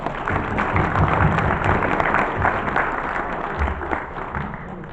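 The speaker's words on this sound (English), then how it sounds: "Give the man a round of applause" Steady applause from a crowd at a Gen Con auction, a dense wash of clapping that holds at moderate loudness throughout and tapers slightly toward the end.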